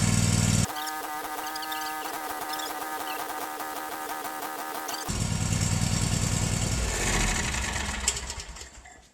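A zero-turn lawn mower's small engine runs loudly and close by, its steady drone shifting in tone partway through before revving slightly.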